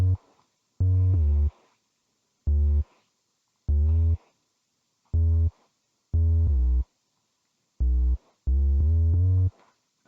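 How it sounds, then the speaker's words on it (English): Simple synth bass built from a sine wave lightly distorted by a waveshaper, playing short separate notes and phrases with sliding pitch between some of them, clean and alone with gaps of silence. "It's basically just a sine wave that I distorted a little bit with a weight wave shaper"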